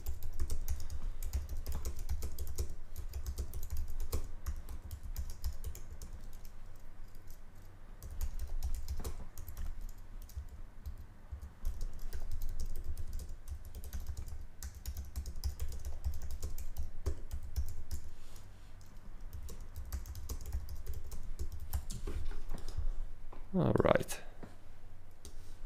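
Keyboard typing while entering text in Figma during web design: a steady run of soft, quick key clicks that continues for a long stretch under a speaking voice, with a louder click burst near the end.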